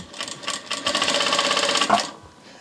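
A Vevor industrial sewing machine stitches steadily at around 1,000 stitches per minute, a close, continuous mechanical whir with rapid needle clatter that runs without pause for a couple of seconds before stopping.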